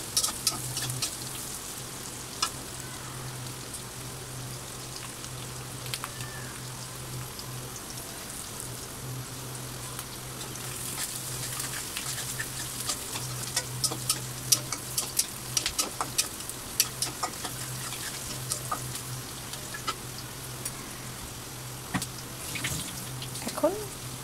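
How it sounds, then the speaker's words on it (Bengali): Chopped onion and green chili frying in oil in a home kitchen, a low steady sizzle with intermittent scraping and clinking as they are stirred, fairly quiet with a faint hum underneath. "একটু নেড়ে নিব যাতে পুড়ে না যায়।"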